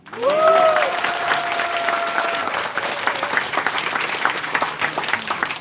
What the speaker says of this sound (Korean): 우리 그럼 큰 박수 한번 치죠.